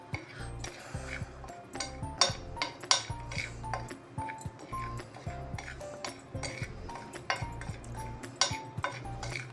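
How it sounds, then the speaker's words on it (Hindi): Spices, oregano among them, stirred together in a bowl with a spoon, giving steady clinking and scraping of metal against the dish, close and continuous with no talking. "इसको अच्छे से मिक्स करेंगे"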